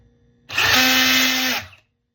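A Bauer cordless power drill set to clutch setting 5 whirs up abruptly, runs at a steady high-pitched whine for about a second, then spins down and stops, close and loud.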